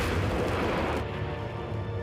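A dense explosion boom in a Berlin 1945 wartime film scene: a loud broadband roar for about a second, then fading into a duller lingering rumble, with no voices.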